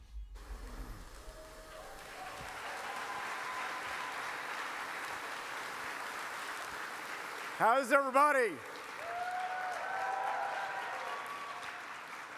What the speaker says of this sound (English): A big Texas, Montgomery County round of applause.